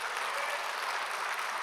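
A church congregation applauds the Hallelujah choir, a steady hiss of many hands clapping at a distance, faint and even throughout.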